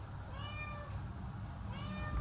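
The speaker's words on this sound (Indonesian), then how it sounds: "Kucing." A cat meows insistently in two drawn-out, wavering calls, close and clear over a steady background hum.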